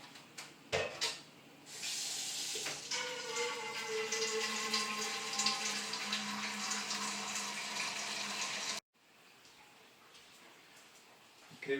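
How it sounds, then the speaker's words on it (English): Water pours steadily from a tap into a jug for homemade wine, a continuous hissing, splashing rush lasting several seconds that cuts off abruptly near the end, close and fairly loud. "We're going to add the rest of the water."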